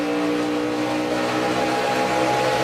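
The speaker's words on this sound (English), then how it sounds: "you can hear him just having to pedal that throttle" A NASCAR Nationwide Series stock car's engine roars during the 2012 Ford EcoBoost 300, the driver pedaling the throttle so the loud, close, droning engine note surges and dips continuously without a break.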